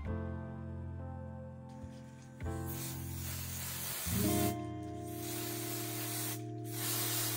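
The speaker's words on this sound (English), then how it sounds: "So I'm just going to use some contact cleaner on here." Contact cleaner sprayed onto the cartridge connector of a Nintendo NES console under repair, producing a loud, close, steady hiss in several continuous bursts over a background hum.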